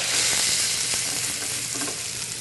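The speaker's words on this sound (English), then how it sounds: "I'm going to sear it in this pan here. I've added some olive oil to it." Stuffed pork tenderloin searing in olive oil in a pan over medium-high heat, a loud, steady broadband sizzle with faint crackles throughout, close by and without speech.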